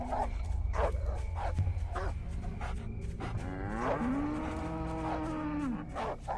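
Amid short clattering game effects and a few dog-like yips, a cow in a cow-tipping video game lets out one long, loud, sustained moo, with a low rumble running beneath throughout.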